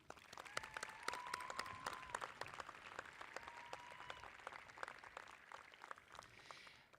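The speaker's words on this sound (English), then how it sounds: "Please again join me in giving a round of applause for Justin." Steady applause from a crowd at a high school commencement fills the whole stretch, dense overlapping claps at moderate level, with a faint voice or tone briefly drifting above it.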